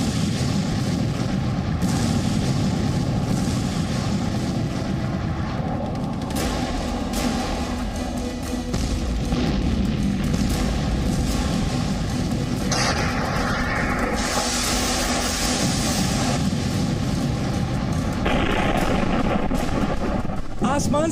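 Russian missile strikes exploding on Ukrainian buildings in news footage: continuous loud, roaring blast noise and rumbling booms with hiss and crackle, dense and unbroken throughout.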